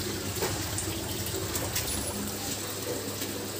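Water from the backwash pipe of a bore-well water filter, flowing steadily with a constant broadband rush that holds even from start to finish, with no talk.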